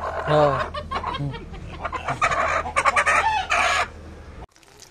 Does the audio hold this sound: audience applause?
no